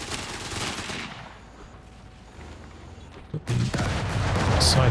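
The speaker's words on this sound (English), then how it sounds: "He's got a machine gun here, kind of low." Machine gun fire in Company of Heroes 3 crackles in dense, continuous bursts amid a loud battle din, dropping briefly and then swelling back with heavier rattling and impacts.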